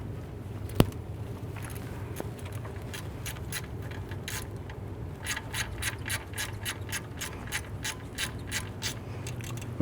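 A ratchet wrench tightens a bolt on the drive belt bracket of a 2012-2017 Toyota Camry, giving quick clicking bursts that grow denser toward the end, close and fairly quiet.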